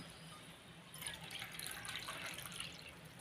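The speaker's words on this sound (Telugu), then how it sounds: "మనం షుగర్ ఎన్ని వేసుకున్నామో అన్ని కప్పులు వాటర్ వేసుకోవాలండి" Water poured by the cup into a pan to make sugar syrup for gulab jamun, a steady close splashing trickle that swells after the first second and runs on without talk.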